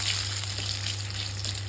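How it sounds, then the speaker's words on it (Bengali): Radhuni spice and bay leaves sizzling in hot oil in a kadai, making a steady close hiss and crackle with a low hum beneath, continuous throughout, with no talking. "আমি কড়াইতে দিয়ে দেবো প্রথমে রাঁধুনি ফোড়ন"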